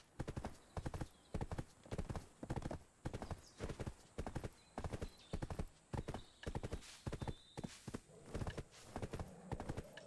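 Horse hooves clip-clopping in the online role-playing game Black Desert, a steady, loud, rhythmic trot of sharp hoofbeats with a brief whinny, continuing for the whole stretch.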